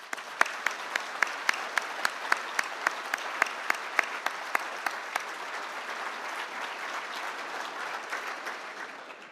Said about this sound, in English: Will you join me in a round of applause